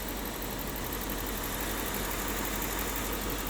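A Toyota 1UZ V8 in a 1992 Crown Majesta idles steadily, a smooth even hum with faint mechanical whir and no changes in revs, heard close and alone.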